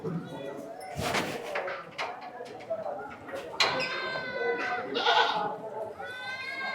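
Several goats bleat in a noisy pen, calls overlapping with a person talking and a brief knock partway through.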